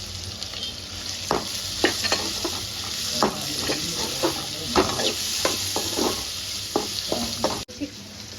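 Onions fry and sizzle in a pan for veg hakka noodles, a steady close hiss broken by repeated scraping stirs of a spatula, with no talking over it.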